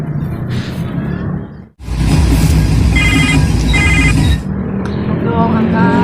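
A telephone rings during an outgoing call, a loud repeating ring pattern in the middle of the clip, with a second-long gap before it and a voice audible on either side.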